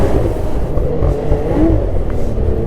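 A snowmobile engine drones steadily through its muffler, rising briefly in a couple of short throttle blips, muffled and fairly loud with no voices.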